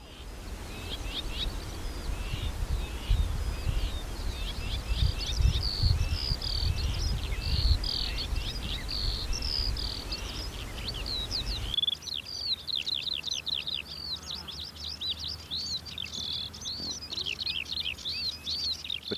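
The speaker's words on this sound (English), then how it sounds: "the whitethroat, a very shy bird, who throws out a hasty scribble of a song" A shy whitethroat delivers repeated hasty, scratchy song phrases, high and chattering, continuing steadily over a low background rumble.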